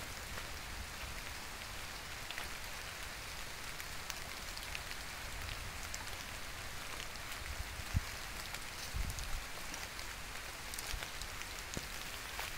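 Rain falling outdoors on a street, a faint, steady, even wash of drops with a few soft thuds, no voices.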